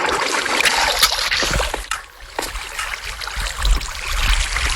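Flowing, splashing water in the Minecraft video game, a busy continuous wash with small splashes that dips briefly in the middle, close and fairly loud, with no one talking.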